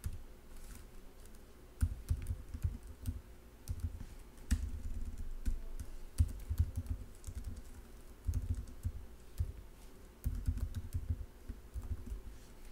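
Code is typed on a computer keyboard for a PHP MVC project, a close, steady patter of key clicks in bursts with short pauses over about thirteen seconds, with no voices.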